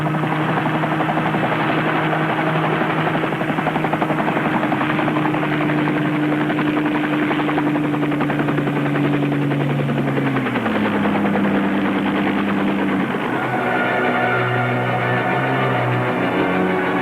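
An aircraft engine drones loud and steady throughout during a landing, its pitch dropping and shifting partway through with a rough, rumbling texture.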